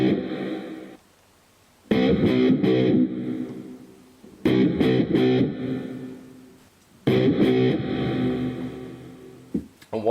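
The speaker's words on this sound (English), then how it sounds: "I'll move along to reverb and we'll try a few different ones." Guitar played through a Korg AX3000G multi-effects unit set to reverb, three loud strummed or picked phrases with a lingering reverberant wash and brief gaps between them, no talk.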